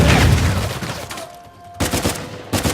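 Gunfire in the video game Uncharted 4: loud close bursts of shots, a short pause with a lingering ring, then more sharp blasts, without any talking.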